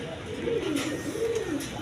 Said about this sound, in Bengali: বন্ধুগণ এখানে এক পেয়ার কবুতর আছে ডাউন ফেস কবুতর ব্ল্যাক কালারের মধ্যে